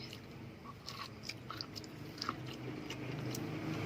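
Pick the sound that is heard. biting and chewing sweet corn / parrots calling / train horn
biting and chewing sweet corn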